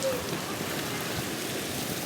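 Heavy monsoon rain pours down steadily around a house in rural Maharashtra during a power cut, a dense, close hiss with no pauses and faint voices barely audible under the downpour.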